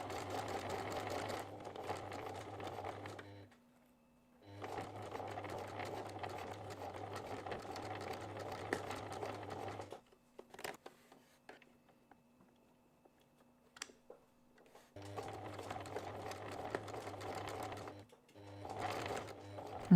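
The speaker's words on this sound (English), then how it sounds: "I'm going to try and sew as close to the folded edge as I can" A domestic sewing machine stitches a drawstring pouch tunnel close to the folded edge in three steady runs separated by quiet pauses, with light fabric handling and clicks between them.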